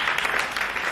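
A brief burst of audience clapping in a classroom-style gender and development course, a dense patter of many hands lasting under a second.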